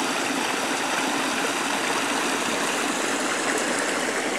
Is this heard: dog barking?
no